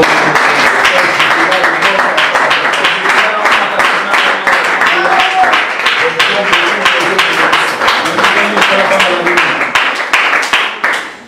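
A congregation at a French-language prophetic church service claps and applauds steadily for about eleven seconds, loud and dense, tapering off at the end.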